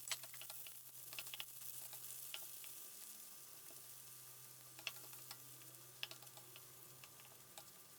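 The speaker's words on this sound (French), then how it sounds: "Quand l'huile est chaude, je fais sauter les carottes et les champignons." Carrots and mushrooms sautéing in hot oil in a home kitchen, a steady low sizzle with scattered clicks and taps from stirring, fairly faint and with no talking.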